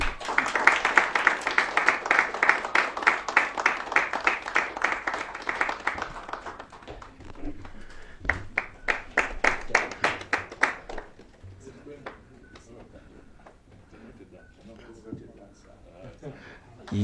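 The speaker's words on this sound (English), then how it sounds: "Another round of applause, please." Applause and rhythmic hand clapping from guests at a ribbon cutting for a Kenyan table book launch in Nairobi, dense and steady at first, then thinning into scattered claps with voices underneath.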